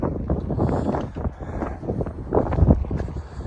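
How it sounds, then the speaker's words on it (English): Gusty wind buffets the microphone in uneven bursts at the Milwaukee Mile race track, a steady rumbling roar with no voices. "Now it's windy, which is nice."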